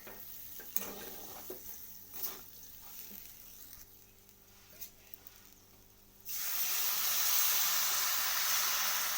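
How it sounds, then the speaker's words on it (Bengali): Water poured into a pot of dalia khichuri with moong dal comes in as a sudden steady, fairly loud hissing rush after several seconds of quiet clinks and stirring. "তো দেখুন, আমি জল দিয়ে দিয়েছি।"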